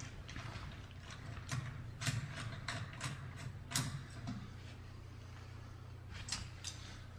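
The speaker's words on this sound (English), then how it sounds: "You want to remove the console, take the 4 Phillips screws off." Phillips screws being backed out of a StairMaster SM916 StepMill console, a series of faint, close clicks and small metallic ticks spread irregularly over several seconds with no talking.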